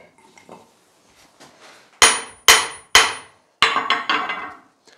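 Hammer blows on a hot chisel (hot cut) resting on a blacksmith's anvil, splitting metal: four sharp, ringing metallic strikes in quick succession with some lighter clinks between, loud and close, no talk.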